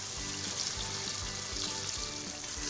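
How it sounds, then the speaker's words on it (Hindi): Half a glass of water poured onto mutton frying over high flame sizzles loudly and steadily, with soft clinks of the pan underneath and no talking. "तो यहाँ पे हमने 1/2 ग्लास पानी ऐड किया है।"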